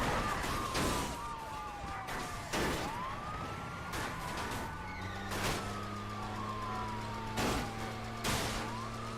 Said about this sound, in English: Maybe because there are 8 billion police cars.